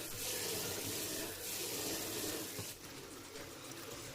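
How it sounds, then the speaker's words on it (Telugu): Rice for sakinalu is rinsed in a basin, with water sloshing and splashing continuously at close range. "బియ్యంని ఒక దాంట్లో వేసుకొని మూడు నాలుగు సార్లు నీట్గా కడగాలి"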